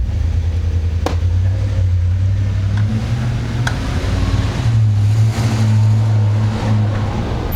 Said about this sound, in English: Those UPS trucks sound so badass.